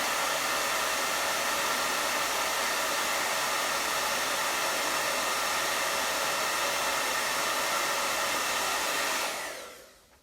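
Hair dryer blowing over wet paint on a painting, a loud steady close hiss running unbroken for about nine seconds before switching off and dying away at the end, with no talking.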